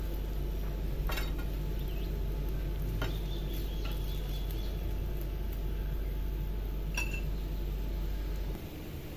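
Paratha frying in ghee on a flat pan, giving a steady low sizzle and crackle throughout with a few faint clinks of a utensil against the pan, no voices.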